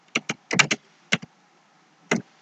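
Someone types on a computer keyboard, a few close, crisp key presses in short clusters separated by pauses, with no talk over them.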